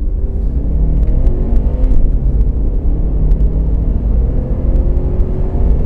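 A Subaru Forester SF5 driving and accelerating past 100 km/h, heard from inside as a loud, continuous low engine drone and road rumble with a steady whir.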